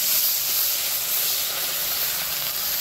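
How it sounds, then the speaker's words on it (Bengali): Onion paste hitting hot oil left from frying pabda fish, a loud continuous hissing sizzle close up, steady for the whole stretch with no talk. "মাছ ভাজা হয়ে গেছে, মাছের তেলে আমি পেঁয়াজ বাটা দিয়ে দিচ্ছি,"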